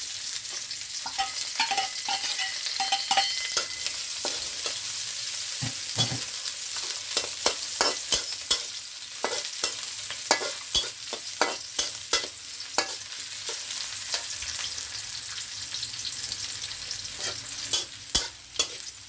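Garlic and onion sizzle steadily in a pan while a utensil scrapes and stirs in repeated sharp clicks and taps, close and fairly loud, with no voices.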